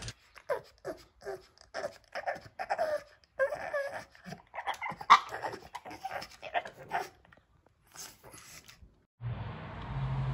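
A dog kept inside a house pants and whimpers close by in quick, rhythmic bursts for several seconds before a louder burst of noise cuts in at the end.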